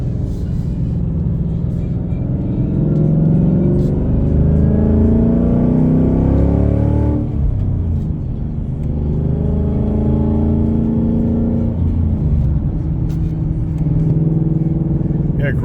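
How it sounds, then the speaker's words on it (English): A 2024 Ford Mustang GT with a Roush performance exhaust rumbles and revs steadily while driving, its deep exhaust note rising and falling through gear changes, loud and close throughout. "It's the Roush exhaust, performance exhaust."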